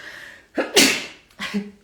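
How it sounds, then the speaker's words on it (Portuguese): A single close sneeze: a quick intake of breath followed by a sharp burst, then a short breathy exhale. "Tem que espirrar"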